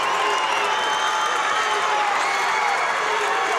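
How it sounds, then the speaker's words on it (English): A packed gym crowd at a 16th Region boys' basketball tournament game, Ashland Blazer against Boyd County, roars and cheers continuously, loud and dense throughout, with a commentator's voice faintly mixed in. "Listen at this crowd."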